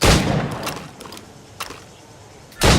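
Gunfire at targets in Assassin's Creed Rogue: a loud opening shot, a few fainter scattered reports with short gaps, then another loud blast at the very end, with no speech.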